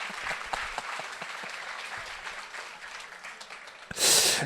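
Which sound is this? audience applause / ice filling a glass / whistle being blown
audience applause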